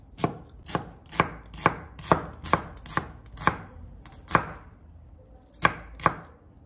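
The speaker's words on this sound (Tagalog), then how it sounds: "Dito sa sibuyas gusto ko pahaba yung paghiwa" Knife chopping through an onion lengthwise on a cutting board, a steady run of about a dozen crisp close strokes with a short pause before the last two, no talking.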